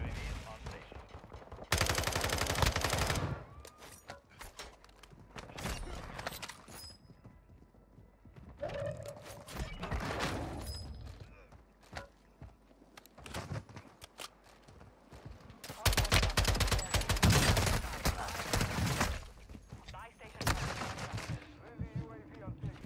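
Rapid bursts of SMG fire in Warzone 2 crack out in several loud clusters, with mechanical clicks and game sounds filling the quieter stretches between volleys.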